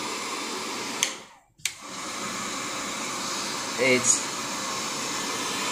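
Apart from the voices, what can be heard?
nano waterproof coating machine blowing hot air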